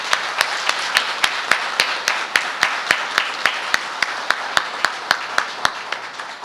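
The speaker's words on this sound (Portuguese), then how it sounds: "peço uma salva de palmas para a esposa deste homenageado" At a solemn municipal council session, hands clap in a slow, evenly spaced rhythm, sharp distinct claps repeating about three times per second, close and clear.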